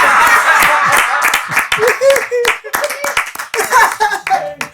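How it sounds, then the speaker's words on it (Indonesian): Studio audience clapping for a guest on an Indonesian talk show, close, sharp handclaps in bursts with chuckles and laughter, and someone talking between the claps. "Tepuk tangan buat Narji"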